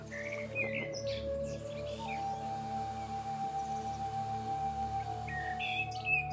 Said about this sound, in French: La nature, c'est les oiseaux qui chantent